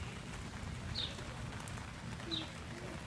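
Steady patter of rain from an unexpected outdoor rainstorm falling on surfaces around a toddler and a chair, a soft continuous hiss with a couple of faint bird chirps standing out above it.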